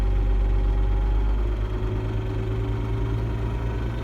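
A John Deere 8770 tractor's diesel engine runs at high idle in snowy winter conditions, a loud, steady low rumble with constant vibration and no voices.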